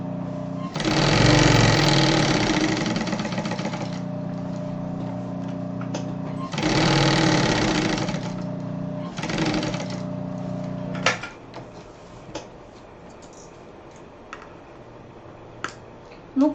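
Sewing machine stitching a cross-body bag, with fast rattling bursts of a few seconds each separated by pauses, then quiet handling clicks and taps up close.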